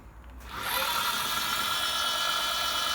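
A 10 kW neodymium magnet alternator for wind or water turbines spins up to about 500 rpm on a test rig, rising within half a second into a steady, dense whirring drone that holds evenly, with no voices.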